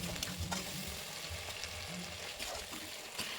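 Chili paste spice mix being stirred and fried in a pan, a soft, low sizzle with faint scraping stirs recurring throughout, quiet and close.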